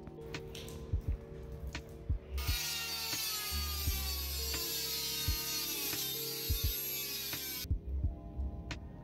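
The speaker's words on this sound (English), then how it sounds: "I'll be cutting the tabs out of this 10 gauge sheet material, mild steel, with a simple rotary tool" A simple rotary tool cuts tabs out of 10 gauge mild steel sheet. One steady, continuous high grinding whine lasts about five seconds over a low background hum, with a few clicks and knocks before and after.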